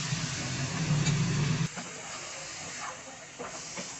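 Fresh amaranth leaves hit a hot pan for a home-style amaranth and egg bhurji, setting off a loud, steady sizzle that drops sharply partway through and settles into a softer, crackling hiss.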